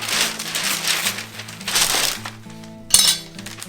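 GrillGrate grill grates made for a Weber 26-inch kettle are unpacked from their shipping packaging, giving rustling and crinkling followed by a sharp metallic clink near the end, heard up close with no talking.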